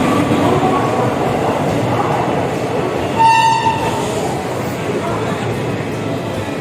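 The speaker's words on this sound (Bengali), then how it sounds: "প্রায় 1/2 ঘন্টা দেরিতে আমাদের ট্রেন এসে পৌঁছালো 1 নম্বর প্ল্যাটফর্মে।" The Haldibari Intercity Express pulls into platform 1 at a station in a loud, continuous rumble of rolling stock, with a brief horn-like tone partway through, and voices mix into the busy station noise.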